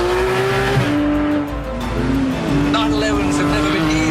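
A Porsche 911 GT3 RS 4.0 engine accelerates loudly and steadily under power, its tone rising and falling while the tires squeal. Someone talks over it throughout.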